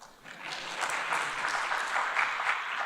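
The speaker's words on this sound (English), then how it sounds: "You may clap, ladies and gentlemen." Audience applause at a mining summit, a steady wash of many hands clapping through the whole stretch, moderately loud and sustained with no voices over it.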